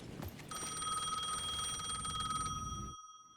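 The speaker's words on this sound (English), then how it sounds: "The payphone was ringing again." Alan Wake 2 payphone rings with a steady, trilling metallic bell that starts after a brief lead-in, holds for about two and a half seconds, and then cuts off into silence.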